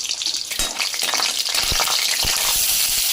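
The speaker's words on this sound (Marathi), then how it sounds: "इकडे कढईमध्ये तेल टाकलं आहे तर गरम झालंच असेल ही टाकूया लसूण" Hot oil crackles and sizzles loudly as garlic hits the pan, with scattered pops and a bright, continuous hiss.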